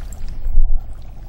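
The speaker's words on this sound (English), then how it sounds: "So we're going to put some dry ice into it." Dry ice dropped into liquid during a TV science show, giving a steady low churning bubble and pour-like rush that swells in the middle and eases off, fairly loud and close, with no talking.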